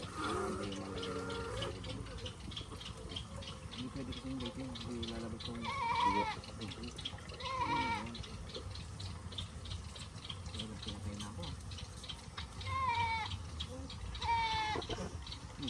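A goat about to be slaughtered bleats several times in short, strained cries spread across the stretch, over a busy background of murmuring and shuffling at a family gathering.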